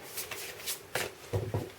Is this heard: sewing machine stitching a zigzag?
no